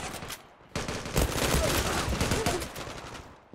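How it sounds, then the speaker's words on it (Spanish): Gunfire from the online shooter Zula rattles out in a dense, close burst lasting a few seconds after a brief quieter lead-in. "Un disparo en la cabeza."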